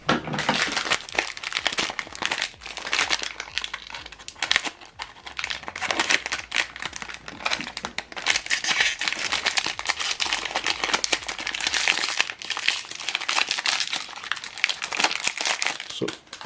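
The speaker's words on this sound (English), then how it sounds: "You need to pull off this plastic." Plastic wrapping being pulled and peeled off HP 303 ink cartridges during printer setup, crisp loud crinkling and crackling in dense irregular bursts close by, continuing for a long stretch with brief pauses.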